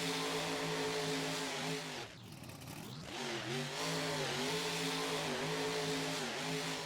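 A monster truck engine in the Rigs of Rods game drones and revs, pitch rising and falling as it strains, with a brief dip in the middle before it picks up again.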